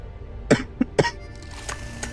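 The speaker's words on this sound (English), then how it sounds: "I need to cough up." Three short coughs in quick succession, close to the listener, over a low background hiss.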